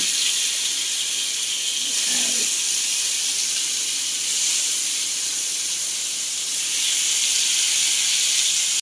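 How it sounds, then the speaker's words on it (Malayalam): A steady, bright hiss of chicken frying in oil in a hot pan for chicken biryani, sizzling evenly throughout with a faint clink early on. "നമുക്കിനി ചിക്കൻ വറുത്ത് പൊരിച്ചെടുക്കാം"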